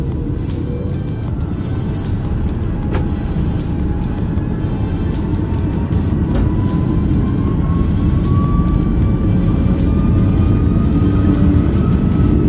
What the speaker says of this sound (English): begin our taxi out to the runway here at Bangkok